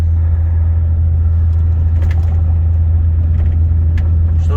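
Volvo FH 540 truck crossing the frozen Lena River on the ice road, a loud constant low engine drone and rumble heard from inside the cab, with faint rattles and no talking.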